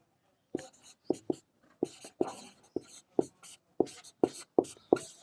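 Pen scratching on paper while math equations are worked out: short rhythmic strokes and taps in irregular bursts, close and moderately loud, with no voice.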